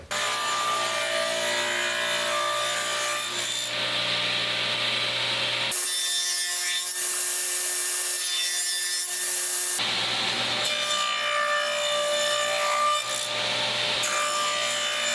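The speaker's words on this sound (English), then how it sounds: "I'm just gonna make a few passes to create a dado on these" A table saw runs steadily while cutting dado passes in wood panels, with a sustained whine and rough rasping as the blade bites the wood, briefly shifting tone between passes.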